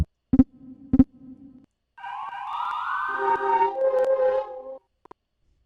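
Synthesized tones triggered by typing on the Playtronica browser site: two sharp clicks with a low hum, then a sustained bright electronic chime with sweeping, siren-like pitch and layered lower tones, ending with a brief blip.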